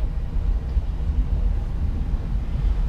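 A Bayliner 275 boat's Mercruiser 5.7 liter inboard engine with Bravo 3 drive runs steadily after starting, a loud continuous low rumble close by with no break in its level.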